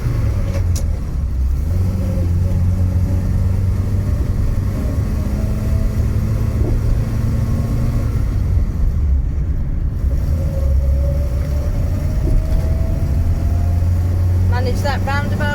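An Austin A40 Farina cruises along a faster road with a steady, loud engine drone and road rumble that shifts pitch as it speeds up, while a person talks over it.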